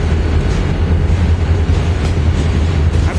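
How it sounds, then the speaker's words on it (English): A freight train rumbles past close by on the adjacent track, a loud continuous roar of rolling wagons with faint clatter, no voices on top. "Another train on the other track."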